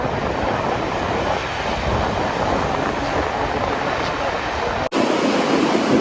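Ocean waves roll onto a long sandy beach on Peru's north coast, a loud continuous rushing surf with wind, briefly cut near the end before the roar resumes.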